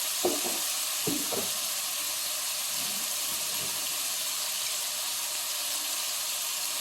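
Tomatoes fry in a pan for a South Indian dish, a steady loud sizzling hiss throughout, with a few clattering stirring knocks near the start and no talking.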